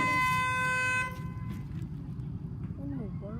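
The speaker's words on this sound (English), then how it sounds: "So technically, our neighbors just honk that dumb horn" A neighbor's horn honks loudly at a horse farm, one sustained blaring blast that cuts off after about a second, leaving quieter rustling background noise behind.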